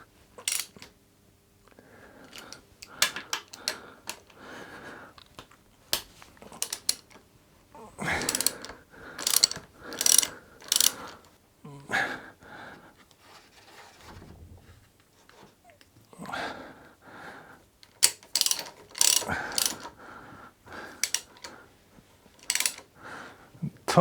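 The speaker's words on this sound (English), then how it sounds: "Then I'm going to just loosen the pinch bolts." A ratchet loosens the pinch bolts on the forks of a Harley Sportster, producing bursts of rapid metallic clicking in irregular runs, close and fairly loud, with quiet pauses and small clinks of tools between them.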